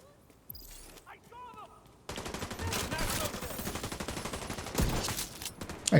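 Video game gunfire bursts in after a quieter opening, with rapid shots rattling on in a dense, loud stream that swells again toward the end.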